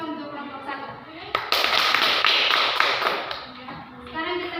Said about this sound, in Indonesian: Ya, kasih aplaus untuk kelompok 1.